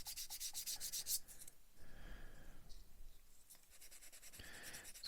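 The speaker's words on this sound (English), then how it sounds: "So I'll just get a sanding sponge and give that a quick rub off." A sanding sponge rubs stray glue off a Hobby Boss M1070 HETS model kit's winch deck in short, rapid, close scrubbing strokes at first, then quieter, intermittent rubbing.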